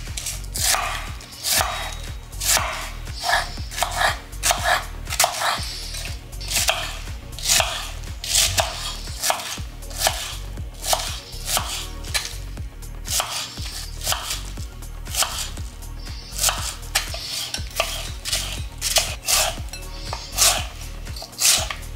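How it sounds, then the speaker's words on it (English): A knife chops rapidly and repeatedly through a firm root vegetable on a cutting board, crisp sharp strikes in a fast, steady rhythm, close up and loud. The knife is a Ninja Foodi NeverDull after a year of use. "cutting right through that root, pretty easy"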